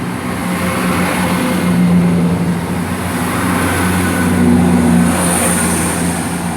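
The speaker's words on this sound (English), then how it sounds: "Departing it is 17426 on the service to Arbroath." ScotRail unit 17426 pulls out of Haymarket station on a service to Arbroath, a loud, steady rumble of wheels and traction motors with a sustained tonal hum that swells slightly as it moves away.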